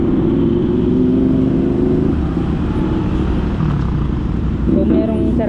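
Heavy road traffic on a congested street near a road closure around Rodriguez in Pasay, a loud continuous rumble of engines heard up close from a moving scooter.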